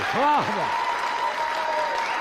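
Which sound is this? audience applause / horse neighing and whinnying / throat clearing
audience applause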